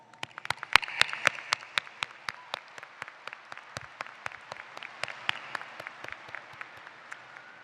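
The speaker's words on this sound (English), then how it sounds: "once again I ask you to give them a round of applause" A college commencement audience applauds, with sparse, distinct individual claps ringing out sharply over a thinner bed of clapping that thins toward the end.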